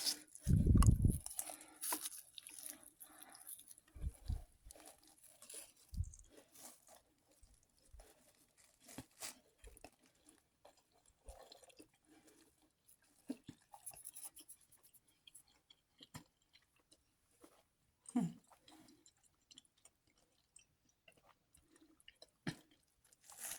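Chewing on a bite of Domino's stuffed crust pizza with cheese-filled crust, a loud bite at the start and then quieter, irregular close-up chews and soft mouth noises spread across the stretch.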